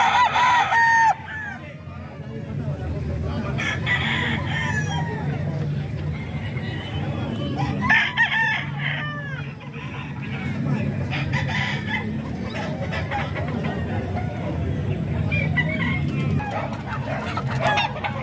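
Gold stag fighting cocks, a pair of brothers, crow and cluck in a Calumpit poultry yard, several birds calling at once with repeated crows over steady background murmur and occasional speech.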